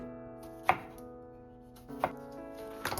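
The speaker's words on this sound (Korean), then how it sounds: "양파는 미리 다져두고 토마토도 깍둑 썰어둡니다" A knife dices tomato on a cutting board in a home kitchen while making a diet meal, with three sharp, close chopping knocks spaced about a second apart over a faint background hum.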